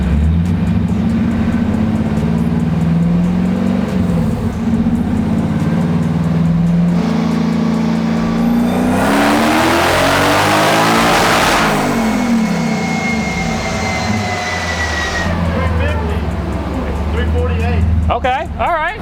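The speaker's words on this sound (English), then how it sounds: "So I think we're gonna try a full pull here" A supercharged V8 drift truck engine on a dyno makes a full pull, its loud droning note climbing steadily to a high roar before falling away, with voices heard around it.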